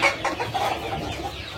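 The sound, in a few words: chickens clucking in a rearing coop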